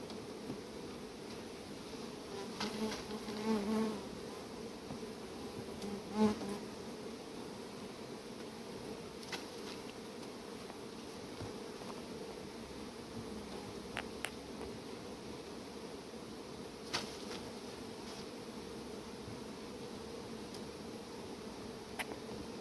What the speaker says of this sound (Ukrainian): Відкриваєш і пчоли всі внизу ходять.